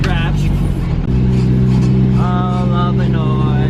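A car with a badly broken exhaust driving on a rainy day, a loud, rough, droning engine note that shifts in pitch as it accelerates, with a voice talking over it.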